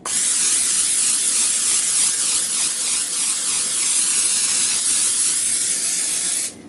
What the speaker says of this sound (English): So we're going to grease a 9x13. We're going to grease our 9x13.